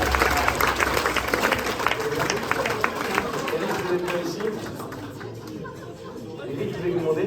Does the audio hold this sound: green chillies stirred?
no